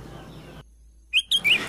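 Sooty-headed bulbul (kutilang) singing in the wild in the morning, a few short bright chirps in quick succession, fairly close, after a moment of near silence.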